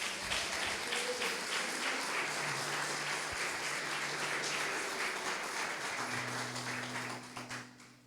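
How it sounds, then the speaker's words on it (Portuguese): A church congregation claps together in a long, even wave of applause, moderately distant, with a sustained musical tone beneath that tapers off at the end. "dá uma salva de palmas para Jesus aí"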